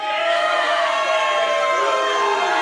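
A wrestling crowd at a local event jeers a wrestler, a steady loud roar of massed voices that carries throughout without a break.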